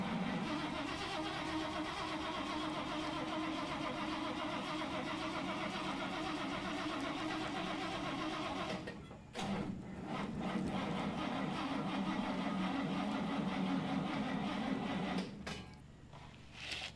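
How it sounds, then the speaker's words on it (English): Starter motor on a 1968 Dodge D100 pickup cranks steadily for a long stretch, pushing the truck, with brief pauses near the middle and end; loud, close, no talking. "we're gonna have the starter push the truck into the garage"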